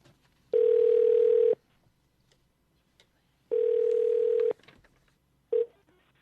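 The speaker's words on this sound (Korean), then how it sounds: "전화 연결해 볼까요?" A telephone ringback tone sounds twice, each about a second long with a pause between, then a third tone starts and cuts off as the call connects.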